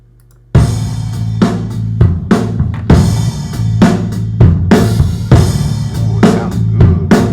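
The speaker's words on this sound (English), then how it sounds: "the floor tom using the SSL channel strip. This just sounds so good." Punchy, booming low floor tom hits, run through an SSL channel strip, repeat in a steady pattern over a full, loud band mix, each strike resonant and close.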